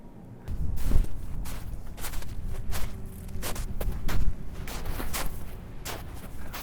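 Footsteps crunching through snow at night, a steady series of close, heavy treads over several seconds with no talking.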